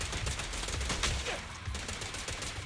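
Rapid bursts of gunfire from the video game Zenless Zone Zero, a dense continuous volley of shots with layered combat effects, loud and busy throughout with no clear gaps.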